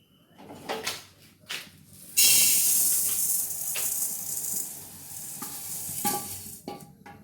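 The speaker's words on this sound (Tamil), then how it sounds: "முதல்ல நம்ம கருப்பு உளுந்தை நல்லா வறுக்கணும்." Black urad dal dry-roasted in a pan, with dry rattling and scraping stir strokes that swell into a sustained hissing rustle after a couple of seconds, close up, no voices.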